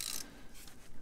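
A ratchet clicks quickly while undoing a bolt near the oil filter of a 2008–2018 Toyota Avensis T27 diesel, a faint, close, rapid burst of pawl clicks lasting about a second.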